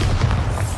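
A Bombarda spell explosion in Hogwarts Legacy, one short deep booming burst with a rumbling low end, loud and close.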